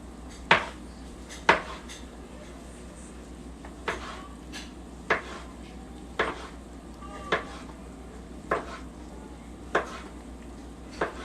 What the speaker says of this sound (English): they can see me slicing up my wieners